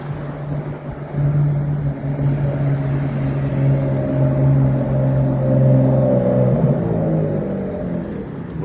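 A Ferrari's engine rumbles nearby in traffic, a deep continuous drone that swells briefly before easing off, with no voices.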